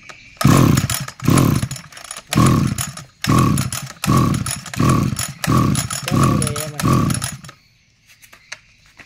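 A salvaged engine started and revved in repeated loud bursts, about eight roaring pulses with brief dips between, sounding choked and rough before cutting out at the end.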